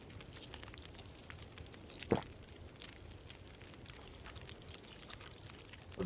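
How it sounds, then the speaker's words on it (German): A cooking pot of water sizzles on a stove in The Long Dark survival game, giving a faint, steady crackling hiss with one brief louder splash partway through. "während das dann noch brutzelt"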